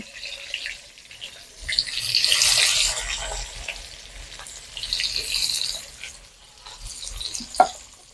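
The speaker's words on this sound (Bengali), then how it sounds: "গরম তেলের মধ্যে আমি পেঁয়াজটা দিয়ে দেবো দিয়ে ব্যবস্থা করার জন্য পেঁয়াজটাকে ভেজে নেব" Sliced onions hit hot oil for a Bengali chicken biryani, giving bursts of hissing sizzle that swell and fade twice, with occasional clinks of a utensil against the pan.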